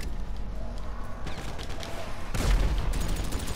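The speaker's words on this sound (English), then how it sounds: "I'm so glad you shot him with a rocket too." Gunfire and rocket blasts in GTA 5, a run of rapid loud shots followed by a heavier booming burst and more shots, dense and close throughout.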